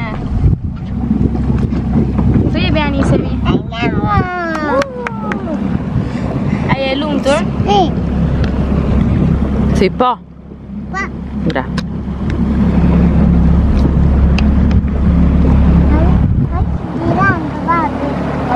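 A boat moving on open water in wind, with a continuous low engine drone and rushing wind buffeting the microphone throughout, under casual conversation between several people on board.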